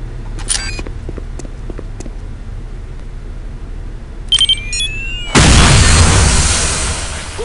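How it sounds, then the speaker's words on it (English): A radio-controlled bomb detonating in Counter-Strike: Condition Zero during counter-terrorist training: a few quiet clicks and beeps, then a sudden loud, close blast that rumbles on and slowly fades. "Once a radio bomb is planted, take cover and press your fire key to detonate the bomb."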